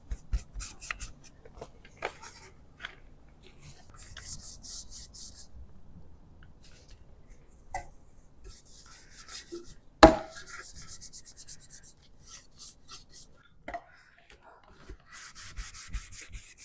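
A cloth rubs black wax into dry, red milk-painted wooden furniture, giving soft, intermittent scrubbing strokes up close with brief pauses and one sharp knock partway through.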